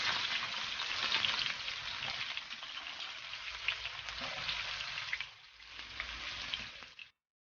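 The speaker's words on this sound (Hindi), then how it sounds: "अब मैं इसमें प्याज को हल्का सा ब्राउन करूंगी।" Onions browning in oil in a pan for mutton yakhni biryani, a steady dense sizzle and crackle running continuously and close, dipping briefly near the end before cutting off, with no talking.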